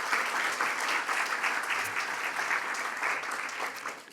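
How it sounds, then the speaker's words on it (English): A conference audience applauds the program committee with a full round of clapping. It is steady and moderately loud from the start and tapers slightly in the final moment. "So just a quick round of applause for our program committee."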